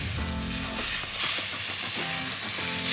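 Egg white poured slowly into a hot pan beside a rolled omelette, giving a steady, close broadband sizzle throughout with faint low tonal hum underneath and no talking.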